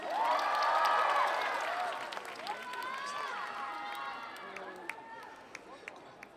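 A crowd at a university autumn rock festival claps and cheers for a band, loud at first with high shouts and screams, then easing into scattered applause.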